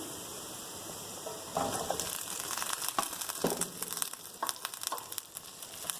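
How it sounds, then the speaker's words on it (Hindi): Okra (bhindi) added to hot oil with browned onion, crackling and sizzling in a pan, starting quiet and then bursting into a lively, uneven spatter of frying close by. "अब मैं इसके अंदर भिंडी ऐड कर दूंगी।"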